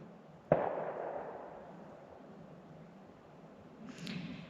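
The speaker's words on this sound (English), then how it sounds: "Gunshots." A sharp, distant bang rings out over quiet outdoor background, followed a few seconds later by a fainter, more muffled report.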